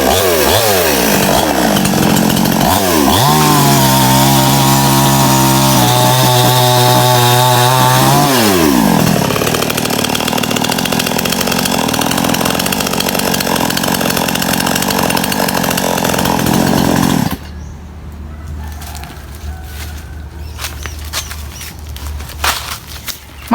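A small Stihl chainsaw, new and run for the first time, revs loudly up and down while cutting wood, its engine rising and falling in pitch before settling into a rough idle and cutting off abruptly.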